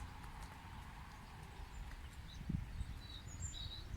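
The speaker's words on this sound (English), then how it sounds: "Goat's coming to say hello, see if there's any food." A goat's hooves clip and clop on the ground in a few soft, uneven steps as the animal approaches, set against a steady outdoor hum with birds chirping faintly in the distance.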